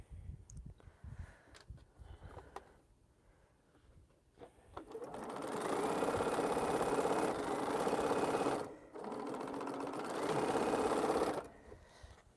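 A sewing machine stitches a quilt seam in a steady, fast mechanical whir, running in two long bursts with a short pause between, close and clear after some quiet handling at the start.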